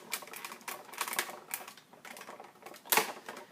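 A Cuttlebug die cutting machine cranked by hand as plates pass through, giving a close series of rough, ratcheting mechanical clicks and grinding pulses with one sharper burst near the end, with no talking.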